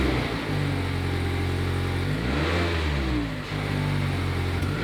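A 2022 Mazda MX-5 GT Sport Tech pulling away with its roof down, the engine droning steadily, then revving up through the gears with a shift partway through, heard close from inside the car.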